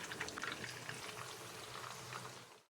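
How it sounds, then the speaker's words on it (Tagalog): Tulingan fish seasoned with salt and pepper frying in hot oil, a steady dense sizzle and crackle running unbroken at close range with no voices over it. "Isunod naman nating iprito ang tulingan na seasoned with salt and pepper."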